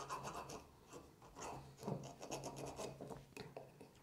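A waiter's corkscrew knife scrapes and rasps around the foil capsule on a wine bottle's neck, a close, quiet series of short scratching strokes with no voices.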